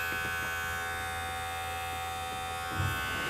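A steady, quiet electric buzz from a Manspot electric body hair trimmer running continuously, with a low hum underneath and a slight bump near the end.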